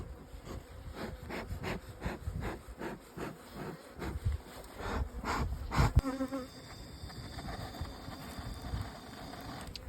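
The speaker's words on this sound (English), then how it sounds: "There seems to be a few more bees in here than last time when we checked." Native bees buzz in a dense, continuous swarm inside an opened beehive, loud and close throughout, with a few brief knocks or rubs of wood midway and no talking.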